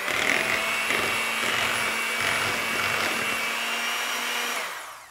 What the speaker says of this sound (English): And then we're just gonna give it a quick beating with the mixer.